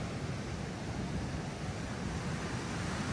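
Ocean surf at Playa Saldamando near Ensenada, Baja California, roars on a high-tide morning while someone fishes from the shore, a constant dense wash of breaking waves with wind buffeting the microphone.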